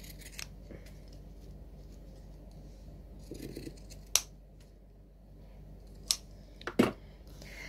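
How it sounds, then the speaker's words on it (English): Pinking shears trimming fabric on a zipper pull, a few crisp isolated snips spaced out across a quiet background, close and sharp. "Get our pinking shears and just trim that up."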